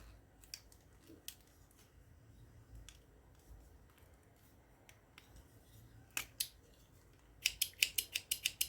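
A cross-stitch thread cutter snips close up: a few scattered crisp clicks, then a quick run of sharp, bright cuts near the end.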